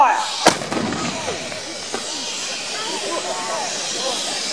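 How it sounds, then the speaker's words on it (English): A reenactment American Civil War cannon fires once outdoors at Lake Goldsmith, Victoria, Australia: a sharp blast followed by a long hissing, rumbling decay. "He's inserted the primer. Gun's ready. Prepare to fire."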